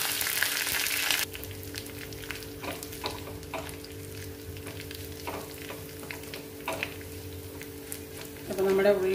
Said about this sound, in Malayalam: അപ്പൊ നമ്മുടെ ഉള്ളി മുളകും കറിവേപ്പില എല്ലാം ഒന്ന് മൂത്തിട്ടുണ്ട്.